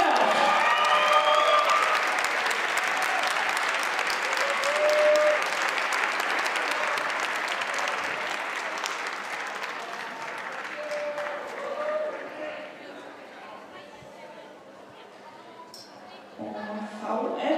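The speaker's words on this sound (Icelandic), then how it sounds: "Gefið gott klapp til hamingju strákar." Audience applause at a gymnastics competition awards ceremony for a team of boys, sustained clapping from a large crowd filling the hall, steady then gradually thinning toward the end with a brief renewed swell.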